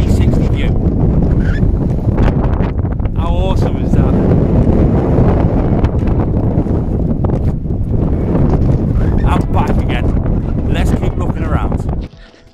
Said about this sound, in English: So it's dead windy, as you can hear.